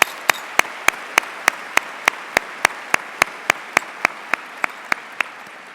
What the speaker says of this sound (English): So let's give them a round of applause for everything they have done for us throughout our lives.